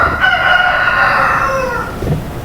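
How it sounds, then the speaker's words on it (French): A rooster crows once, loud and close, a long drawn-out call heard alone. "Un coq."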